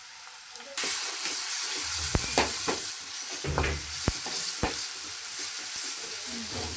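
Ginger sizzles and hisses in hot oil in a pan for chicken curry, a steady bright frying hiss punctuated by several sharp stirring scrapes and clicks, close and alone.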